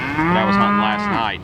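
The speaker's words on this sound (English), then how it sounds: "I think you can hear the cows in the background" A cow moos loudly and close by in a grassy pasture in the Great Plains, one long drawn-out low call, while a person speaks over it.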